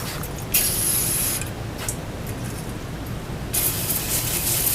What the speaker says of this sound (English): I'm just going to spray this all in there.